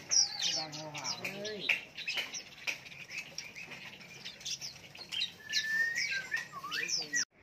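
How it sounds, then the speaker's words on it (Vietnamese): Red-whiskered bulbuls sing at a caged-bird market in Lạng Sơn, giving a busy run of bright chirps, whistles and warbles from several birds close by, with faint market chatter and bustle underneath. "Chim quế lâm này giọng hót khá là hay."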